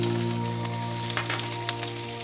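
Prawns hit a very hot, lightly oiled wok and sizzle with a steady, close, crackling hiss, with small pops and spits breaking through the continuous fry and no talking.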